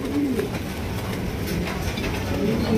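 Mundi pigeons cooing, soft low coos repeating close by over a continuous rustling background.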